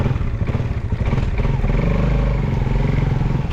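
A motorcycle engine idles and runs steadily nearby, with a loud, continuous low chugging and a faint clatter throughout.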